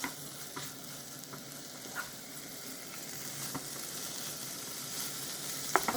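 Pastrami frying in its own oil being stirred in a pan, a steady soft sizzle with faint scrapes and occasional light clinks of the utensil, close and without talk.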